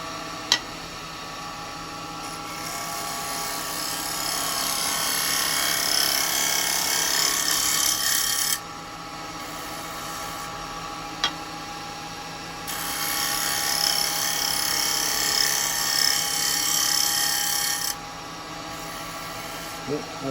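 Carbide chisel cutting an Umbilo wood bowl on a lathe, a steady high whirring scrape that alternates louder and softer passes as the tool engages, with a few sharp clicks.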